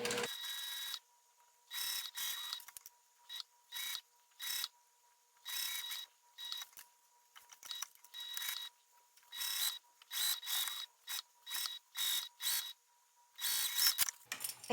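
Sewing machine stitching a crossbody cellphone bag seam over its hardware, in repeated short bursts of rapid needle clatter separated by brief pauses, fairly close and alone, with a faint steady tone underneath.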